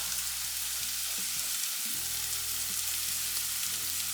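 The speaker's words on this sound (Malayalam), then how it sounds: "ഇനി നമ്മൾ പൊടിച്ചു വെച്ച മസാല ഉണ്ടല്ലো, മസാല ഇതിലേക്ക് ഇടാം." Ground masala hits a sizzling mutton roast with coconut pieces in the pan, giving a steady, close frying hiss that runs evenly throughout with a few soft stirring knocks.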